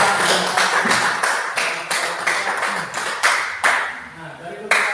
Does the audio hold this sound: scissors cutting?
no